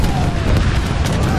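Cannons firing in Age of Empires 3 Definitive Edition during a large multiplayer battle. Dense, overlapping booms and blasts keep going without a break, with people talking over the din.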